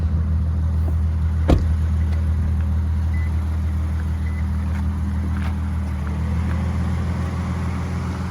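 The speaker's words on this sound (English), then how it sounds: "so that's why my fan is coming on" Cooling fan of a Lexus IS350 running after a drive, a steady, low, close whirring hum that holds throughout, with one sharp click near the start.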